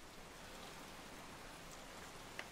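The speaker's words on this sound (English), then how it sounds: "And I'm being dragged through the heavy rain." Heavy rain pours in the video game Resident Evil 7, a dense, even hiss of falling water, steady and fairly faint, with no talking over it.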